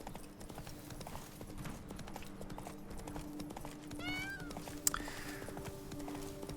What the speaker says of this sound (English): I haven't ridden my horse in quite a long time.